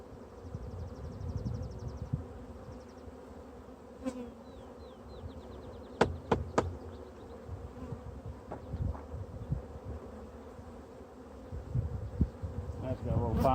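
Bees buzzing around frames pulled from a hive, a steady close hum with individual bees whining past, plus a few sharp knocks and handling noises from the frames.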